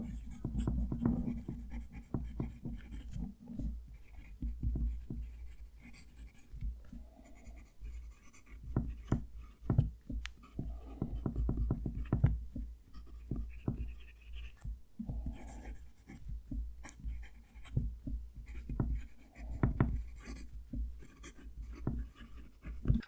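A Diplomat Aero fountain pen scratches across paper in quiet, close, irregular strokes with soft taps between words, faint and continuous with no talking.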